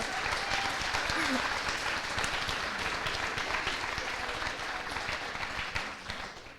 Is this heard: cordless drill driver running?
no